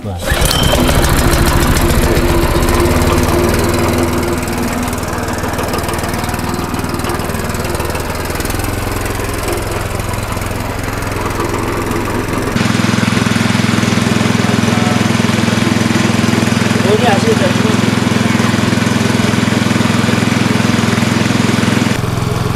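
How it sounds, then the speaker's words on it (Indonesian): A motor-driven meat grinder rigged as a simple pellet machine for maggot feed pellets runs with a loud, steady mechanical drone and rattle, its pitch dropping partway through, as a voice talks briefly nearby. "Jadi ini gilingan daging cuma dikasih penggerak."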